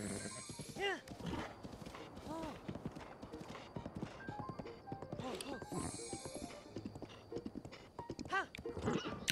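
Horse hooves in The Legend of Zelda: Breath of the Wild, rapid rhythmic clip-clop with game music and occasional whinnies, steady and moderately close throughout.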